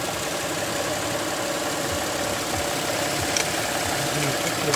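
A used car's engine idles at the Köneürgenç car bazaar, a steady close rumble holding for several seconds with faint background voices.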